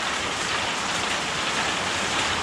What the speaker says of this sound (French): Ah ouais, non, là, il pleut plus fort.